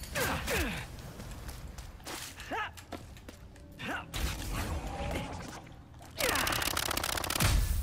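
Weapons firing in Ratchet & Clank: Rift Apart come as bursts of shots, whirring sci-fi zaps and mechanical clatter over game music, growing louder and denser near the end.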